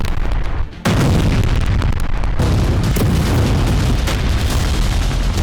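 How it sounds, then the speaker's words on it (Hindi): Drone strike on a Russian steel plant in Cherepovets: a loud, sustained roar of blast and fire noise fills the whole clip after a brief dip near the start, dense and rumbling throughout. "रूस के चेरेपोवित्स में यूक्रेन ने बड़ा विस्फोट किया"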